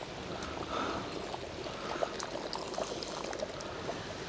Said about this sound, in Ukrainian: воду я додаю кип'яток